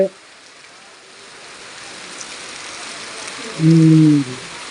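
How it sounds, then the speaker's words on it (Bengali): Heavy rain pours outside a house in a steady, close wash of hiss that builds slightly, with a brief low humming tone near the end. "বৃষ্টির শব্দ শুনতেও আমার অনেক ভালো লাগে"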